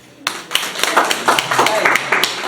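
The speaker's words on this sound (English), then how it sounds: "That type of hand clap for him" An audience at a medical education session on sickle cell disease at Kalangala health center breaks into brisk hand clapping, a close burst of claps with a voice speaking through it.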